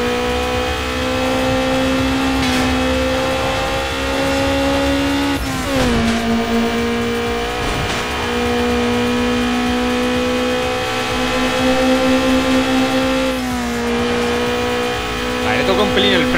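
A Honda S2000 racing in Need for Speed Underground 2, its engine holding a steady high-pitched drone with brief dips at gear shifts, loud and continuous while someone speaks over it.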